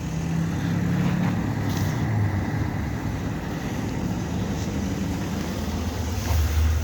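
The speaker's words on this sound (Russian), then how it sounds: "Главное, что экскаватор на полном ходу, гидравлика живее всех живых." A Japanese mini excavator's engine runs with a continuous low rumble and working hydraulics, holding a steady loud drone with faint higher whines and clicks over it.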